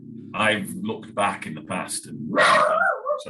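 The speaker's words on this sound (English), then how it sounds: "that's my dog going on" A dog barks and yips in the background while a person keeps talking, the sharp barks cutting in over the voice near the end.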